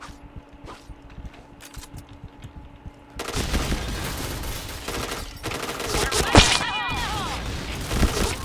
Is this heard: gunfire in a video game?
yes